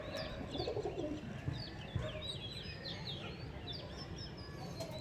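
Pigeons cooing at a pigeon sale, including red-necked and flower-necked birds, with low murmuring coos and scattered chirps running continuously over a busy, noisy background, while people talk faintly nearby.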